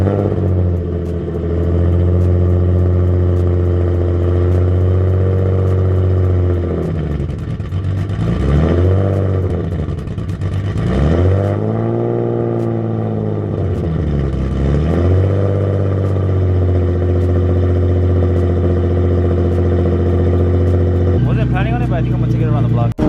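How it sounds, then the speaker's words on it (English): A BMW M340i engine fires up from cold and settles into a loud, steady idle with a deep drone, briefly rising and falling in revs several times before a clattering change near the end; a person talks over it. "So we're gonna give this thing a little cold start"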